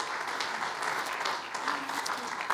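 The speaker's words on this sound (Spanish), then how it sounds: "Un aplauso a Cristo." A church congregation applauds together, a steady wash of many hands clapping at moderate volume with a little voice mixed in, sustained for a couple of seconds.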